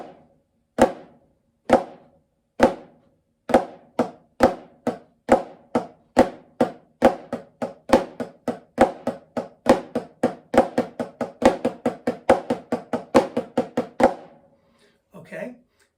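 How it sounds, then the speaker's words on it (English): A snare drum runs through four flams, four flam taps, four flam accents and four flam paradiddles, starting with sparse spaced strokes and building into a dense steady stream, close and alone, with a brief murmur at the end. "4 flams, 4 flam taps, 4 flam accents, 4 flam paradiddles,"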